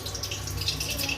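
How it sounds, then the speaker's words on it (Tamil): Cooking oil poured for an egg curry makes a steady close trickling, liquid hiss that runs continuously for about a second, with no voices over it. "இப்போ நான் இந்த எண்ணெயை ஊற்ற போகிறேன்."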